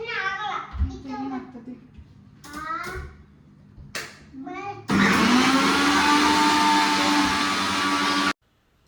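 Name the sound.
mixer grinder grinding spice paste with water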